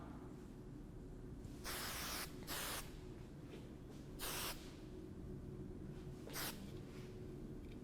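Four short hissing bursts from an aerosol hairspray can while styling a bridal bun, evenly spaced, close by, with quiet room noise between them.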